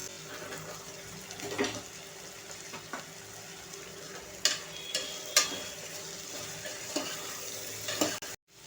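Chopped ridge gourd and tomato fry in a pan, a soft steady sizzle under sharp clicks and scrapes of a spoon stirring, with a brief trickle of water near the end.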